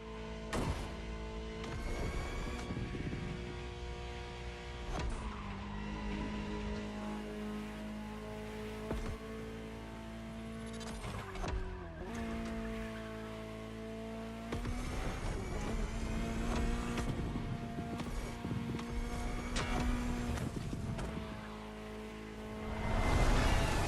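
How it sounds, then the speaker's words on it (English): A high-revving Ferrari engine in the video game The Crew Motorfest roars continuously, its pitch climbing and dropping through gear shifts, loud and close, with music layered underneath. "Just listen to the car you're driving."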